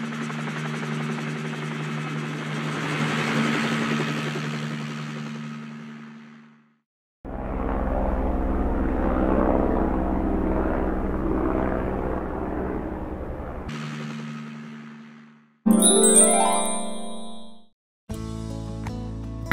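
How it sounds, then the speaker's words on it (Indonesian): A helicopter passes overhead as a steady loud rotor drone that holds for several seconds, cuts out, then returns, followed by brief chimes and tonal sound effects near the end. "Suara apa ya itu? Wah, ada helikopter."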